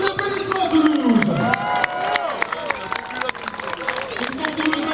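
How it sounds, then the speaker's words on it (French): A football stadium crowd in Toulouse applauds and cheers for a children's breakdance group, a broad roar of clapping and shouting sustained throughout beneath a loud amplified announcer's voice. "Encore une fois, un maximum d'applaudissements pour les Breaking"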